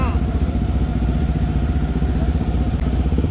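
A Yamaha WR155 supermoto idles and burbles steadily up close, part of a group of seven bikes gathered in Bandung, its dense low engine note continuous throughout while voices talk over it.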